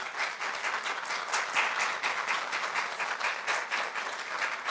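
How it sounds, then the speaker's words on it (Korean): A church congregation applauds in welcome during a Sunday Easter-season service, dense sustained clapping from many hands filling the room evenly throughout, with no speech over it. "여러분 한번 박수로 한번 환영을 해주시면 고맙겠습니다"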